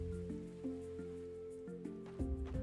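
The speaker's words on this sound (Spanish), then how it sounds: "Está lloviendo." Rain falls in the farming video game Roots of Pacha, a soft steady patter beneath gentle looping game music with plucked melodic notes.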